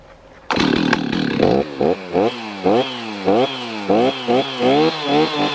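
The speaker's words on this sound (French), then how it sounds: "On vérifie que le graissage de chaîne fonctionne bien en accélérant la tronçonneuse contre la partie de l'arbre." A chainsaw cutting dead wooden poles on a tree starts up loudly, then revs in a series of sharp, rhythmic throttle bursts as it is accelerated against the trunk to check the chain oiling.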